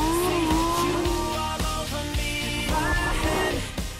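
Lamborghini Gallardo LP570-4 Superleggera on a racing track, its engine droning loudly with rising and falling pitch and brief tyre squeals, nearby and continuous over an accompanying music bed.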